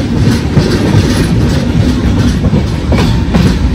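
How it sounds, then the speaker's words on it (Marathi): Train pulling away from Begumpet railway station in Hyderabad, a steady loud rumble with rhythmic clickety-clack of wheels on rail joints throughout. "हे बेगमपेठ रेल्वे स्टेशनवरून डिपार्चर."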